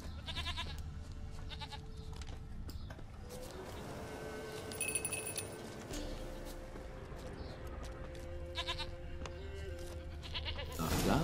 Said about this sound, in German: die Ziege retten.